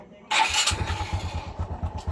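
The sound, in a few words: Honda XRM 125 motorcycle engine starting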